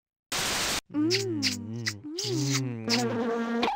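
Buzzing bees of a bee beard in the You Don't Know Jack video game, a burst of static-like buzz heard alone before a voice talks over a warbling, electronic buzz.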